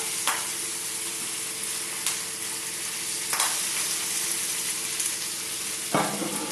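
Mixed vegetables for a frittata sizzle in a frying pan, a steady close hiss broken by a few sharp clatters as the pan is stirred, with no voices.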